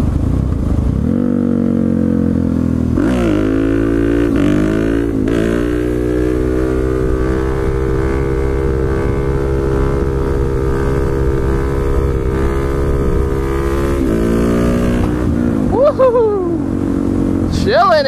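Supermoto motorcycle engine revving and droning steadily through a long wheelie, loud and close with heavy wind noise, pitch rising and falling with throttle changes near the end.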